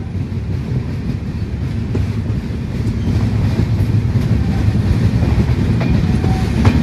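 The Konkan Railway Mandovi Express, Thane to Kudal, rumbles along at speed, a loud continuous low roar with faint rhythmic clatter of the wheels, heard from inside a carriage.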